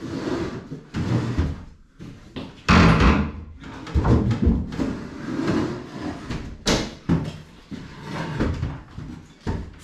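Front door of an Italian house under renovation being pushed, opened and knocked shut, a series of loud wooden bumps, rattles and slams in close, busy bursts.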